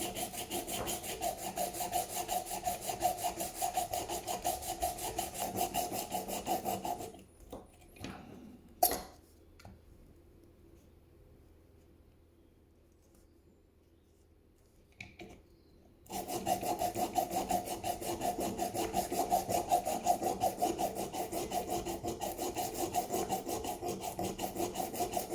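A knife blade rubbed back and forth on a Work Sharp rolling sharpener's 320-grit disc gives a steady, close rasping scrape, which stops for several seconds with a few faint handling clicks before resuming just as steadily.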